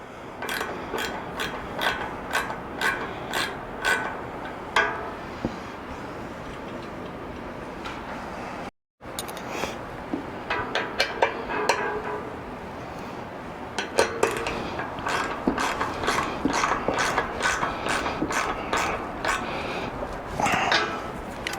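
A small 3mm hex wrench tightens the front foot bolt of an upTOP Overland Alpha or Bravo roof rack on a Lexus GX 470, giving rapid, close metallic ticking clicks in steady bursts with a short break midway.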